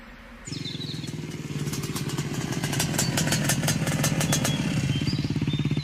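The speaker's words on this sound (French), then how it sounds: "Il est à moto sur un terrain accidenté." A motorcycle is ridden over rough, uneven terrain in an action film, its engine growling loud and close in a rapid, pulsing rhythm that builds steadily in intensity.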